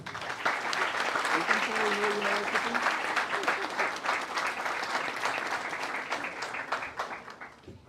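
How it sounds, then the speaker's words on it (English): Sustained applause from a large audience at a youth programme, honouring Dr. S. Jaishankar, with dense, steady clapping that holds strong for most of the stretch before tapering off near the end. "Please give a big round of applause."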